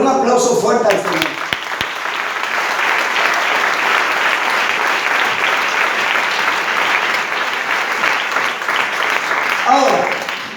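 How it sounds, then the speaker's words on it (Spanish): A church congregation claps loudly for the Lord during a service: a dense, sustained roar of applause lasting several seconds, with a preacher's voice briefly at the start and again as it fades near the end. "Denle un aplauso fuerte al Señor."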